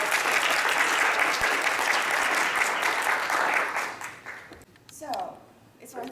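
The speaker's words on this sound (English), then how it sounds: "Let's give a big round of applause." A full audience applauds at a women's shelter's 30th anniversary event, steady dense clapping that fades out after about four seconds into quieter room noise with a few voices.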